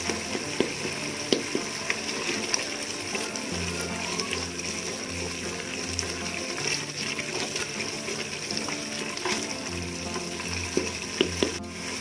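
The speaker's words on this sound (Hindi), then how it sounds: "इस तरह चम्मच घुलाते जाएंगे, इसको भूनते जाएंगे।" Meat and turnips fry and get stirred in a pan, a steady close sizzle running throughout with occasional scraping clinks of a spoon and no talking.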